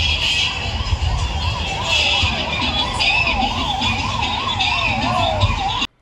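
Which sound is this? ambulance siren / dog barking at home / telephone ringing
ambulance siren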